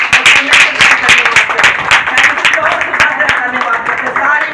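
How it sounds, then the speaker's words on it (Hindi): A congregation claps for children at an Easter Sunday church celebration. Dense, close clapping rattles on continuously with voices mixed in. "तालियां बजाएंगे इन सबके लिए"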